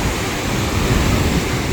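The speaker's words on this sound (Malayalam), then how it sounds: "നല്ല കാറ്റും അതുപോലെ തന്നെ തിരമാലകളുടെ ശബ്ദമൊക്കെ കേട്ട്" Ocean waves wash onto the shore at Kovalam beach, a dense, loud roar of surf mixed with wind rush, continuous and unbroken.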